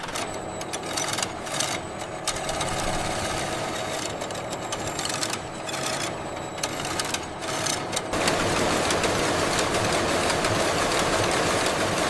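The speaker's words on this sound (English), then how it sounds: "The yarn is loaded into a massive tufting machine" Dense mechanical clatter of a carpet tufting machine with thousands of needles running steadily, a rapid rhythmic chatter over a low engine-like rumble, growing louder and fuller near the end.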